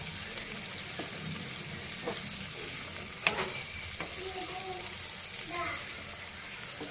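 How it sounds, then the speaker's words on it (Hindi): Tomatoes frying in a pan over medium heat for a desi-style matar paneer, a steady soft sizzle with occasional stirring scrapes and clinks, while someone talks over it. "टमाटर को इतना भी भूनना नहीं है, एकदम मीडियम करना है, मीडियम आंच पे, ताकि थोड़ा सा ये फ्राई हो जाए"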